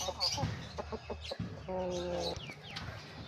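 Chickens cluck on a backyard poultry farm among Brahma, Sussex and crossbreed birds, several short clucks and calls close by with farmyard background noise.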